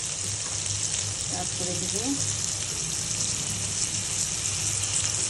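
Onion added to a hot frying pan with oil sizzles continuously and fairly loudly, a steady crackling hiss under brief speech.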